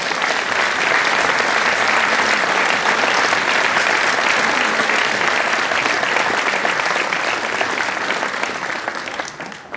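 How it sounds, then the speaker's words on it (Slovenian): Sustained, loud applause from a concert audience greeting singer Ivan Hudnik, even and continuous for nearly ten seconds before tapering slightly at the end. "zaploskajmo Ivanu Hudniku."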